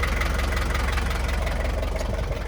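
A 1985 Toyota 2LT turbo diesel engine in a 4x4 long-bed pickup runs steadily at idle, a close, loud, even clatter with a rough knocking rhythm and no voices.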